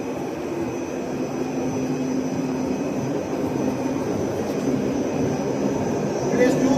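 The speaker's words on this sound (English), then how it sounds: "now you can see the flywheel is rotated" A flywheel in a free-energy generator rig, spinning up in a big workshop as a steady, airy whirring hum that holds at a constant loudness throughout, with faint voices underneath.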